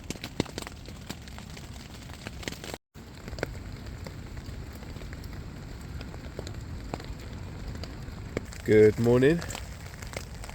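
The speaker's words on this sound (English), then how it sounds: "as you might hear, it's raining." Steady rain patters on a tarp over a solo bushcraft camp in the woods at dawn, a continuous soft wash of drops with a brief dropout, and a person speaks briefly near the end.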